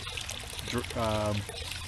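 Water drains from a copper plumbing system, making a brief gurgling pour and trickle that swells for a moment, close by, under someone talking.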